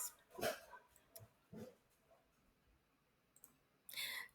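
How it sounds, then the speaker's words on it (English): Dogs barking indoors off-camera, a few short sharp bursts spread across a few seconds, faint and distant-sounding with quiet gaps between. "My dogs were barking at something."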